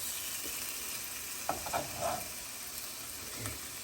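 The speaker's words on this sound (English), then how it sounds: "smoked fish cakes. As you can see, they're just cooking away nice low heat." Smoked coley fish cakes seasoned with za'atar fry gently over low heat, a soft steady sizzle with a few brief clatters from the pan and quiet movements.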